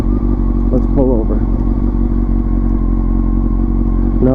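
A Honda CBR929RR sport motorcycle engine runs steadily at idle, a close, loud, continuous low rumble with some clatter, while someone talks briefly over it.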